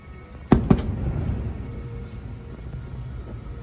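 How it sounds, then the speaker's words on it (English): Two sharp firework bangs in quick succession, followed by a lingering low rumble fading into distant background noise. "We have a fireworks view."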